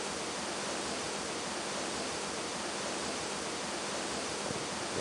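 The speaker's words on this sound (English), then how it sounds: "Waterfall sound or something." Steady waterfall or river rush in the King of the Hill PC game Texas Huntin' and Hootenany, a dense, even roar of water that holds constant throughout with no other sounds.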